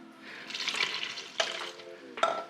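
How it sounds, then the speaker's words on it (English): Warm water mixed with yeast pours into a bowl of flour for pizza dough, a soft continuous splashing trickle with a few sharper bumps and clinks, close and fairly quiet, with no voices. "I have my water nice and warm and it feels good, I'm gonna go ahead and pour this in."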